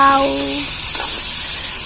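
Meat sizzles as it hits a hot pan with potatoes and capsicum, a loud, steady frying hiss following a brief tonal clatter at the start.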